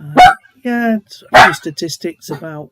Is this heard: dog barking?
yes